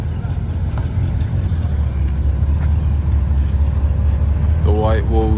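A classic Oldsmobile Rocket engine with white walls and a white roof at a Cars & Coffee meet, running as a steady low rumble throughout amid crowd noise, with a brief revving sweep near the end.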